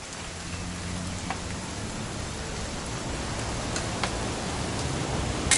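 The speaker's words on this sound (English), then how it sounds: "It's gonna rain the whole weekend, isn't it?" Steady rainfall in What Remains of Edith Finch, a thick continuous patter and hiss with scattered louder drop hits and a low rumble underneath, slightly swelling toward the end.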